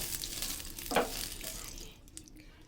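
Bottle gourd pitha frying in a pan of oil, a close steady sizzle with a brief louder spatter near the one-second mark, then quieting as the heat settles.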